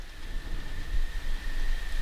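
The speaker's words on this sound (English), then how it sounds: "There's thunder and lightning." Steady rain falls on a cabin roof during a nighttime storm in Nova Scotia, a dense continuous hiss with low rumbling underneath, loud and unbroken with no voices.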